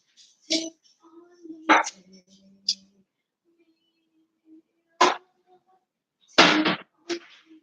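A dog barks in a yard, giving a few sharp, separated barks at close range, with a brief voice and some quiet background sounds between them.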